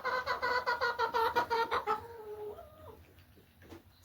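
Backyard hens in a small laying flock cluck in a quick, steady rhythm, fairly faint, fading out after about two seconds into quiet.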